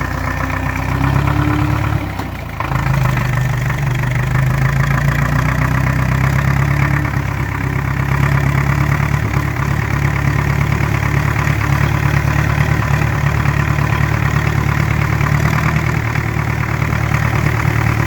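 A homemade tractor powered by a ship engine idles with a steady, loud, low rumble throughout, a brief dip in level early on, with no talking.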